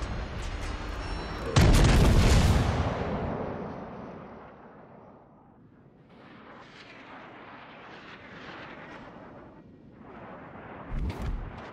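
Heavy naval gunfire in a war video game, with one big loud boom early on followed by a long rumbling decay, softer rolling blasts in the middle and another sharp boom near the end.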